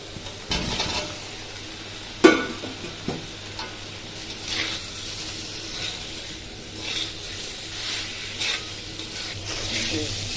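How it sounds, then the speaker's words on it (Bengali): Fried potatoes are tipped into sizzling cooked spices for a vegetarian cauliflower curry, a sharp clatter followed by repeated scraping stirs and a steady close sizzle, with no talk. "এবার ভাজা আলুগুলো দিয়ে দেব"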